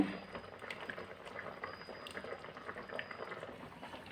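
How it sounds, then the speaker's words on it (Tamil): Mutton curry with coconut milk simmers at a gentle boil, giving a faint, continuous bubbling and popping close by, with no voices over it. "ஒரு கொதி வரட்டுங்க பாருங்க ஒரு கொதி வந்துருச்சு"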